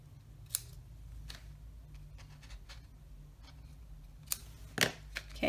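Scissors snipping the ends of a ribbon tied in a simple knot on a small paper craft bag: a few sharp, quiet cuts scattered over a few seconds against a faint background hum, with no talking.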